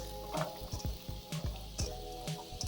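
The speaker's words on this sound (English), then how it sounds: "now I'm going to put the tapioca pearls in here" Soaked tapioca pearls go into a sizzling pan and are stirred, giving a soft sizzle broken by several quick wet squishes and clicks at an uneven rhythm.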